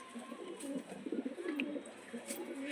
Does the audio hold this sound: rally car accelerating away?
no